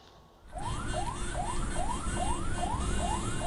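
An ambulance siren wails on a street in Ciputat, Tangerang Selatan, starting abruptly and then repeating rising sweeps in a fast, steady cycle over traffic noise, loud and fairly close.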